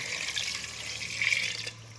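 Water pours steadily into a pressure cooker holding browned beef, a smooth splashing rush that stays fairly quiet and constant for a couple of seconds before tapering off near the end.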